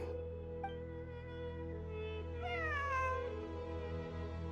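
A cat in the video game Genshin Impact meows twice, a short call followed by a longer drawn-out meow, clear over a steady droning musical background.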